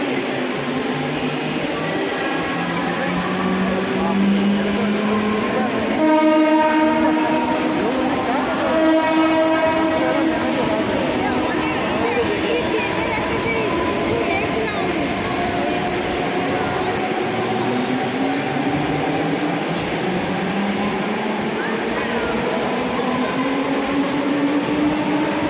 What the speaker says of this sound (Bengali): साइड में 2 ट्रेन आ गया